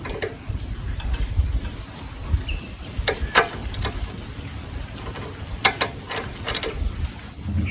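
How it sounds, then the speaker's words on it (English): Spanner tightening a nut on the rear brake pedal of a Royal Enfield Bullet 350 while an Allen key holds the screw, close sharp metallic clicks and ratcheting ticks in irregular bursts over quiet background. "Holding the screw in Allen key in one hand, tighten the nut using this spanner."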